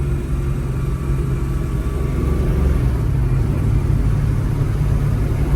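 A 1969 Ford Mustang Fastback pro touring car pulls through its gears, its engine a loud, close, steady rumbling drone that rises slightly partway through, with no talking.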